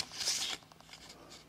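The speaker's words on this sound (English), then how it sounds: "I just shuffled that horribly" Trading cards from a Pokémon XY Base Set booster pack are shuffled by hand, giving a short papery riffle burst, then a few faint soft card taps.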